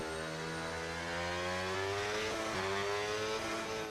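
Racing car engine in an F1 video game, played on a wheel, revving hard through rising gears, loud and close, with shifts and a short dip before climbing again.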